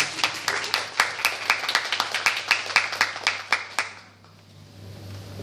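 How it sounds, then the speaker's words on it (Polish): Audience clapping at a panel discussion in Białystok, a brisk, steady burst of many hands near the room that fades out after about four seconds into quiet room tone. "Proszę o brawa."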